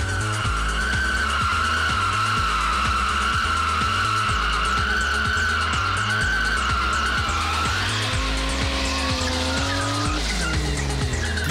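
A Porsche 911 GT3 RS engine roars continuously at high revs while tires squeal and skid loudly, the pitch shifting as the car drifts sideways.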